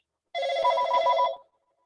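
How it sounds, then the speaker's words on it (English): A phone ringing for an incoming cell-phone call during a meeting, one short electronic ring burst of about a second, clear and alone in a quiet room. "Call from cell phone MI."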